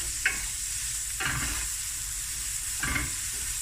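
Sriracha prawns sizzle steadily in a hot pan, with a few quick scraping stirs cutting through the constant frying hiss, close and fairly quiet.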